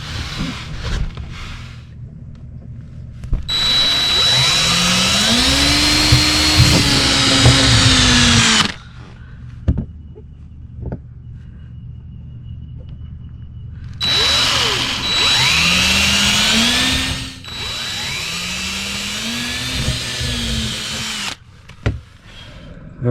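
A cordless power drill whines up and down in two long bursts while drilling pilot holes on a boat for a shore power inlet and small AC distribution panel, close and loud, with a short quiet gap between runs.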